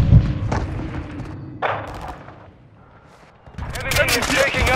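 A grenade explosion in a shooter video game lands as a heavy, close thud at the start, followed by further booming impacts and gunfire, with voices talking over the din.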